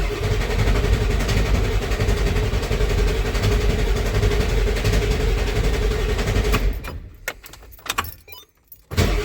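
A 1994.5 Ford F-350 Powerstroke diesel with new injectors and intake cranks over in a loud, steady rhythmic churn, then cuts off abruptly into clatter and near silence.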